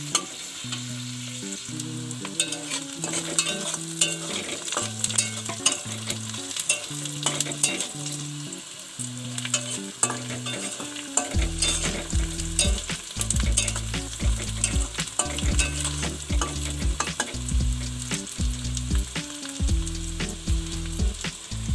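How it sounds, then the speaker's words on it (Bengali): Chopped onions sizzle steadily in hot oil in a pan for dhaba-style brinjal bharta, a loud continuous fry broken by repeated scraping stirs, with no one talking. "সেই পেঁয়াজ কুচিগুলো দিয়ে দিলাম। এবার এটাকে ভালো করে ভেজে নেব।"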